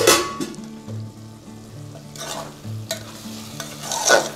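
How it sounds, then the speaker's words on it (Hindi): Potato and green onion curry fries in a pan and is stirred over high heat, with a close, steady sizzle broken by spatula scrapes and clacks against the pan, and no talking. "तेज़ आंच पर सब्ज़ी को चलाते हुए 2 मिनट भून लें।"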